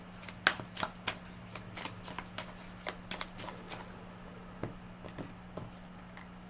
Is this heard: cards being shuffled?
yes